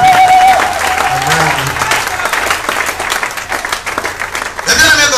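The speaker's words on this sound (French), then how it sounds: "Est-ce que tu peux acclamer cette parole?" A church congregation at a Sunday service applauds loudly and without a break, with voices calling out and a speaker's voice running over the clapping.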